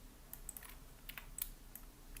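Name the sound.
pressing the X key on a computer keyboard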